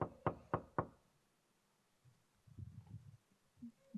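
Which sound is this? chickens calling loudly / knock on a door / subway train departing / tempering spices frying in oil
knock on a door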